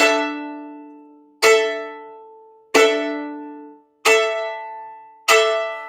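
Five violin chords ring out one after another at an even pace, each decaying slowly with a clear, bell-like shimmer.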